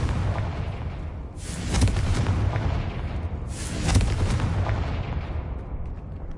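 Explosive Confringo spell blasts from the Hogwarts Legacy video game: two loud, booming bursts a couple of seconds apart, each over a constant roaring rumble, with no talk.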